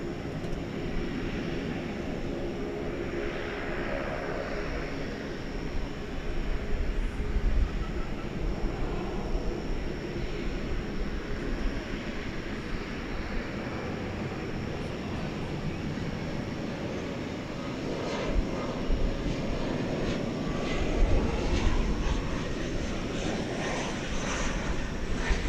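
A Frontier Airlines airliner at Dallas Fort Worth Airport gives a continuous broad jet roar that swells and holds for the whole stretch, steady and moderately distant.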